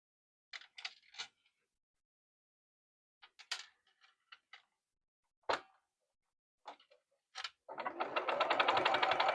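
A sewing machine stitches a quarter-inch seam on a quilt block, running in short separate bursts with pauses between them, then settling into one longer, steady run at the end.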